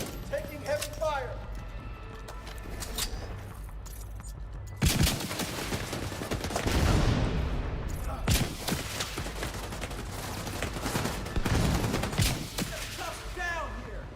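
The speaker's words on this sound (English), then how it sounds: "Taking heavy fire." Heavy gunfire in The Division video game: sustained bursts of rapid shots and fusillades roll through the whole stretch, loud and dense, with voices talking over the shooting.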